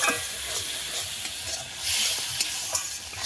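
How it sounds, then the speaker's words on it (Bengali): Masala paste with a splash of water fries in a pan, a loud hissing sizzle broken by repeated scraping stirs and small taps of the spoon, with no talking. "আবারও ভালো করে মশলাটা কষিয়ে নেব"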